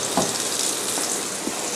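Beef burger patty searing in a pan for a homemade cheeseburger, a steady broadband sizzle with faint pops that holds at an even level throughout, with no voices over it.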